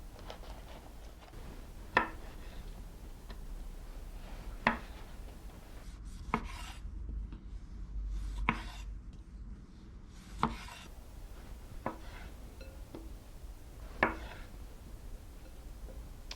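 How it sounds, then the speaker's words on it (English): Grape tomatoes halved with a knife on a board, a series of crisp, evenly spaced chops and taps about every second or two, close and clear over a quiet room. "we're going to take some grape tomatoes and we're going to cut them in half"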